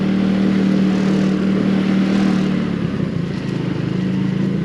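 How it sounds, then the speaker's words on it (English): A Lambretta V200 scooter's engine with an aftermarket exhaust drones steadily while riding, a loud, close, even rumble with a strong low tone that dips slightly mid-way and then recovers, with no speech over it. "It does sound pretty beefy though with that exhaust on."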